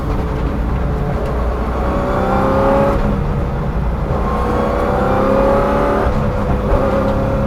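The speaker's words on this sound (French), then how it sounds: "Entre là vous voyez une Zytec qui vient" A Zytec race car runs on a circuit at a historic endurance event, heard with a loud, continuous engine drone and rising and falling revs throughout, heavy and near.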